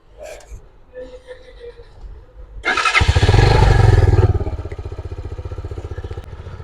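A Kuba Superlight motorcycle engine cranks and starts after a quiet stretch with some talk, revs briefly, then settles into a loud, steady, close idle with a rhythmic putter.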